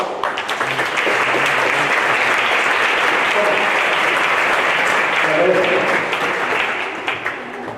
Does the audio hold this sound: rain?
no